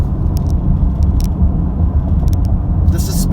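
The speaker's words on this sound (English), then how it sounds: "I'm going over some kind of rough roads" A 2017 Chrysler Pacifica minivan's interior hums with steady low road rumble and engine drone on a rough road, with occasional small thumps and rattles from the uneven surface.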